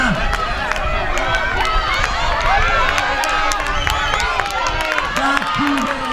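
Spectators at a 600 m youth race for boys and girls cheering and clapping nonstop for a home athlete leading, a dense roar with whistles and a commentator's voice over it.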